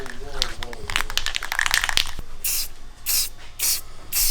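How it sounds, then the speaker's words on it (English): Several short, loud hisses of detailer spray are sprayed into the engine bay of an R32 Nissan Skyline, coming in quick bursts after some rustling and handling noise, with someone talking around them. "Get your detailer spray."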